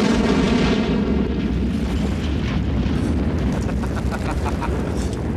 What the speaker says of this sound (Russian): Как только бьет артиллерия, русские прячутся.